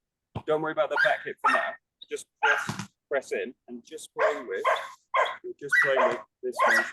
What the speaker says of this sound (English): Again, sorry about the dogs.